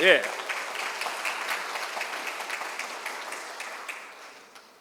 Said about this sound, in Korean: 여러분들 또 박수 한번 좀 보내주십시오.